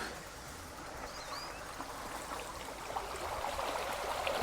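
A motocross dirt bike rolls very slowly through a water crossing on a forest track in Ontario, Canada, producing a continuous splashing, rushing wash of water that swells slightly toward the end, with no clear engine note or talk.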